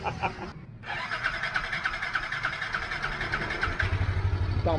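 A Yamaha NMAX scooter, bored up with a 62 mm chrome bore and MTRT forged piston, starts after a short cranking burst and a brief pause, then settles into a steady, buzzing idle close by.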